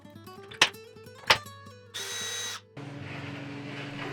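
Two sharp clicks, then a power drill driving screws into wood whirs in a short burst, pauses, and runs again in a longer, steady grinding spin.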